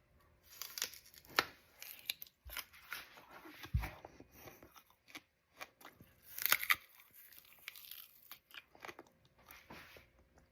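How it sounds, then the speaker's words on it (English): Crunchy freshly washed fruit, sweet and apple-like, being bitten and chewed nearby, a series of sharp crisp crunches and tearing bites spaced irregularly with quiet gaps, no talking. "You guys can hear how crunchy this fruit is."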